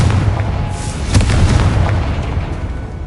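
A deep, loud booming explosion from the Confringo blasting curse in Hogwarts Legacy, a heavy rumble with a sharp burst and a rolling tail.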